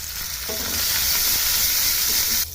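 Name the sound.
chopped green chillies added to hot oil with cumin, sizzling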